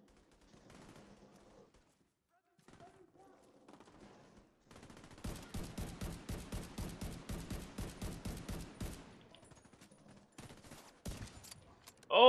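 Rapid burst of gunfire from The Division 2, about a dozen sharp evenly spaced shots in a steady rhythm, loud and close, with quieter scattered shots before and after and no talk over it.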